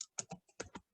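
Five quick, quiet keystrokes on a computer keyboard tap out in a short burst, close and crisp with silent gaps between them.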